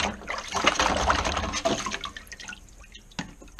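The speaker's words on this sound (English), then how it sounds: "We've just got the coil cover here, so we're just going to give that an up and down, a little swish around." A plastic metal detector coil cover swished up and down in water, giving brief wet sloshing and dripping splashes, close and moderately loud, fading toward the end.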